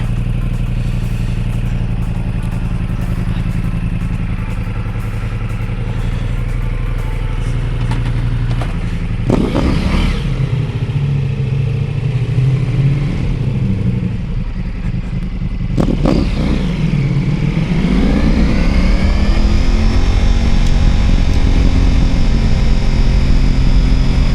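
A Ducati Pikes Peak motorcycle with a BT Moto stage 1 tune rumbles at a steady idle, then revs sharply twice before pulling away and accelerating with a rising, sustained engine roar.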